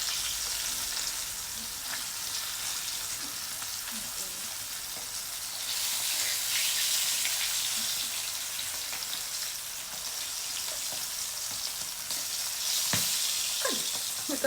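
Steady, hissing sizzle of tawilis fish frying in hot oil, with occasional sharp pops and spatters rising above the constant crackle.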